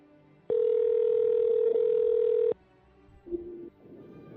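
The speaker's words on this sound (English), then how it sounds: "our first call here is to George Santos" A steady telephone dial tone sounds alone for about two seconds while a call is being placed, then cuts off, followed by brief faint line noises.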